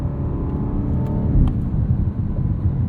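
A 2023 BMW 760i xDrive with an aggressive exhaust and a ZF 8HP transmission shifting fast through paddle shifters gives a steady, close engine drone heard from inside. Brief dips and surges hint at quick gear changes.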